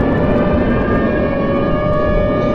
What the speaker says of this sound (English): Where are those sirens coming from?